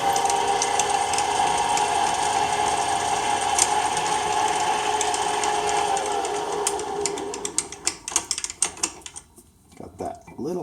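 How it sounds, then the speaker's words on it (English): Metal lathe boring the center hole in a dip pen blank, a steady whirring mechanical drone with a faint ticking rattle. The drone fades after several seconds, leaving scattered clicks and taps of the tool backing out. "got that center hole drilled"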